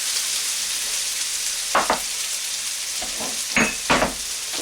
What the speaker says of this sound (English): And you give that a stir.